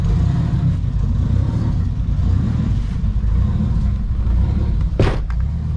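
A Nissan 240SX engine idles while warming up in a garage, a steady, loud low rumble that holds evenly throughout, with a brief sharper transient near the end.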